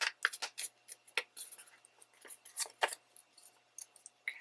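Paper is folded and creased by hand for a matchbook treat holder, making a close, quiet series of irregular crinkles and crisp rustles with no voices.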